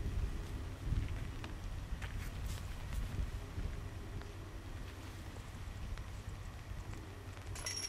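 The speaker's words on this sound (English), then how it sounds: "As you can see, it's getting pretty breezy out there." Breezy wind blows across an outdoor disc golf course, a low, steady rumble buffeting the microphone with no voices over it.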